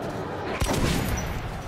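Shotgun fire in the video game Metro 2033, with a sharp blast landing at about the midpoint over a dense, noisy game background.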